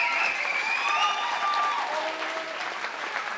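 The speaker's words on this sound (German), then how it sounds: "Applaus bitte für Motivation im Publikum." Audience applause at a poetry slam in Bavaria, a dense, steady clatter of many hands clapping that runs the whole time and eases off slightly near the end, with no talking over it.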